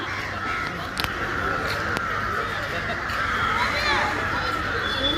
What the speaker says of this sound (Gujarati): સાંજ ઢળી ચૂકી છે ને કાગડા બધા રાડું પાડે